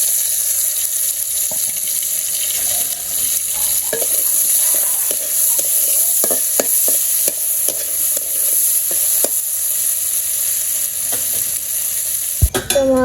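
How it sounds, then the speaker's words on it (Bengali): Dried fish sizzles steadily in a hot pan while a utensil scrapes and stirs in a series of short knocks, the frying hiss loud and continuous, ending with a sharp clatter. "তোমার শুটকি মাছ ভাজা হয়ে গেছে"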